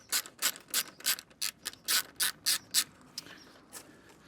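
Ratchet with a T25 Torx bit loosening a bolt on a Vauxhall Corsa D near the air filter housing: about ten quick, evenly spaced clicking bursts, close and clear, fading into a few softer final clicks.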